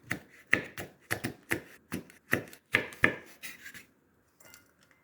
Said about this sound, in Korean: 홍고추도 파처럼 너무 크지 않게 사선으로 썰어줍니다